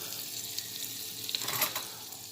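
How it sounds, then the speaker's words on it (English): Butter melting in a large pot for Jamaican callaloo rice gives a quiet, steady sizzle with soft crackling, a few faint pops rising briefly near the middle, with no talking. "We're gonna add some about 2 ounces of butter to it. Alright? We're gonna leave that to kind of melt"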